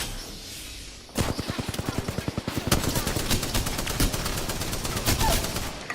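Automatic weapon fire in Apex Legends: after a quiet start, a rapid string of sharp shots rattles out in quick succession, loud and close, with a few heavier cracks mixed in.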